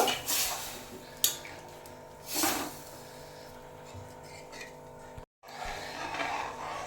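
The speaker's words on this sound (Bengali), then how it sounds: "তারপর যে ভেজে রাখা উচ্ছেটা দিয়ে দিচ্ছি, দিয়ে ভালোভাবে নেড়ে ছেড়ে নেব।" Bitter gourd fried earlier is stirred into a pot of boiled lentils, giving soft scraping and clinking of a spoon against metal with a couple of louder knocks, heard amid steady kitchen background.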